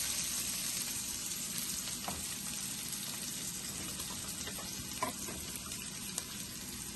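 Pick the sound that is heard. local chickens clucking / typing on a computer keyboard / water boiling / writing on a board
water boiling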